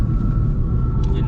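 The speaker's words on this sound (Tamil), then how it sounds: "என்ன டிராஃபிக்!" Low, steady rumble of road traffic on the way to Chennai, a continuous engine and tyre drone with a faint tonal whine through the short stretch, no voices over it.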